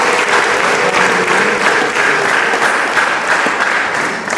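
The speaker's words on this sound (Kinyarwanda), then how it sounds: "dukomere Imana yacu amashyi cyane" A church congregation in Rwanda applauds a choir, giving dense, steady, loud clapping that runs the whole length without a break.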